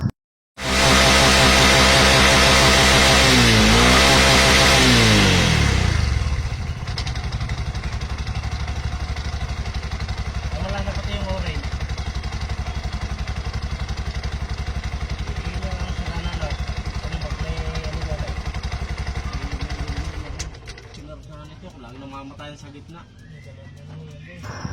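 A Bajaj Maxima auto rickshaw with an idle problem starts up and runs, its engine loud and steady for about twenty seconds before dropping to a quieter level.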